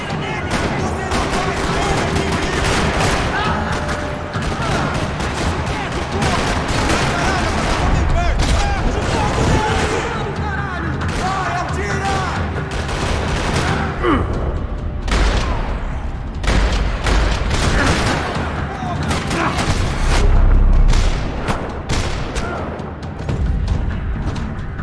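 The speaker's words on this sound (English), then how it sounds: "Another parking lot rattling with gunfire." Dense, sustained gunfire in a parking lot in the game Max Payne 3, with rapid automatic bursts, single shots and heavier booms layered loud and close over an echoing space, continuing throughout.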